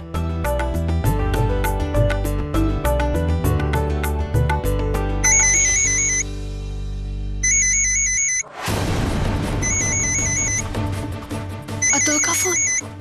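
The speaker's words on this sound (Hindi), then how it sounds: "अतुल का फोन, अब क्या करूं?" A phone rings in a Hindi TV drama household scene, a repeating electronic ringtone melody in bursts over background music, loud and close, with a short gap before the ringing resumes.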